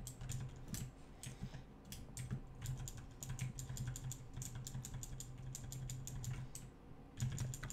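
Computer keyboard keys clatter in fast bursts with brief pauses, close and fairly quiet, over a low steady hum while playing Rust.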